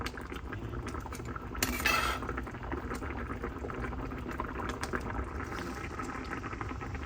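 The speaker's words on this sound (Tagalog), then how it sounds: "Pinapakuluan ko lang." Sinigang fish soup simmers in a pot with a steady bubbling boil throughout, and a brief clatter of cookware rises near the two-second mark.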